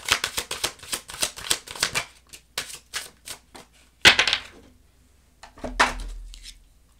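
Tarot cards are shuffled in quick riffling bursts at close range, a dense run of crisp flutters that thins into scattered snaps and a couple of final riffles. No one speaks.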